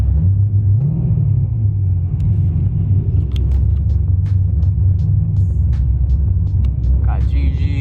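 Deep, steady rumble of a car with an LS7 engine idling and revving close by on a rally drive, with people talking over it throughout.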